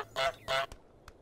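A cartoonish goose in Untitled Goose Game gives two loud, close honks in quick succession, followed by a couple of brief soft clicks in an otherwise quiet scene.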